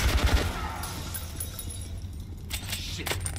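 Gunfire in the video game Metro Last Light: a brief burst of heavy shots up front, then quieter scattered rattling and a few sharper cracks near the end, all at moderate distance with no clear talk.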